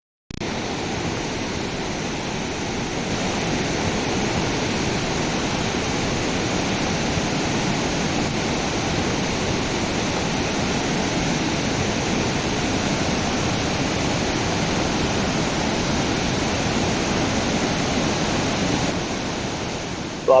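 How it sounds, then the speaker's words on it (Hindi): Loud, steady roar of mountain water rushing and dropping from a height along a Himalayan route toward the Valley of Flowers and Hemkund, continuous broadband rush filling the whole stretch with no talk. "पानी का शोर डरावना तो होता ही"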